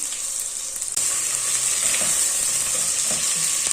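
Chicken sizzles and fries with garlic, ginger and garam masala in a hot pan, a continuous crackling hiss with occasional small pops and a brief clatter of stirring.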